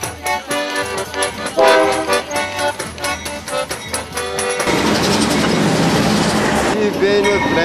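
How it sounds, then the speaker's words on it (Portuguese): A train rumbles past loudly while someone talks over it, the rattling clatter rising into a continuous roaring wash of noise in the second half. "O barulho desse trem não pode me fazer mal."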